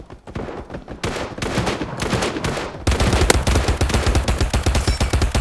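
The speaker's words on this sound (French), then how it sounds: "Oh, fais gaffe, ça tire pas loin." Gunfire in the video game Mini Royale: loud rapid automatic bursts, with a denser, heavier stream of shots in the second half.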